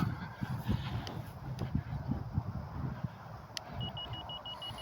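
An Estes Tazz model rocket's locator beeper sounds after a hard landing on a compacted running field: a train of short, evenly spaced high beeps starts near the end over outdoor wind and background noise.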